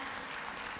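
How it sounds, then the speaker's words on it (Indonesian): Audience applause at a stock-investing talk's question-and-answer session: a short, steady burst of clapping from a crowd, fairly faint and even throughout, with no voices over it. "Kita berikan tepuk tangan untuk Ibu Melisa yang mau bertanya."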